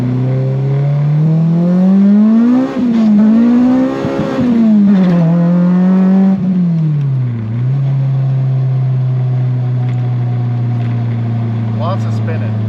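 A K-swapped Honda Del Sol launching and revving hard with tires spinning, a loud, close four-cylinder engine rising and falling in pitch through several surges before settling into a steady high drone.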